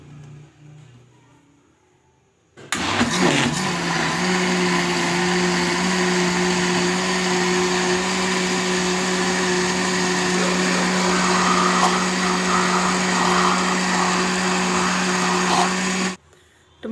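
A blender jug purées cooled tomatoes for ketchup, starting abruptly and running at a steady, loud motor whine with a constant hum for about thirteen seconds before cutting off.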